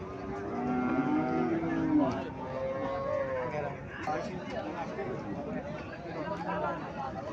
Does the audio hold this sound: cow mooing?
yes